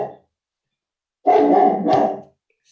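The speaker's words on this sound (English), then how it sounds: "I have a dog here." A dog barks in a home during an online talk: one brief bark, a pause, then a louder run of two or three close barks.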